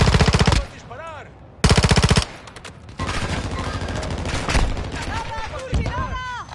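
Automatic gunfire in Warzone 2.0 DMZ: loud, rapid bursts of shooting, two sharp early volleys then sustained firing with explosions and game effects.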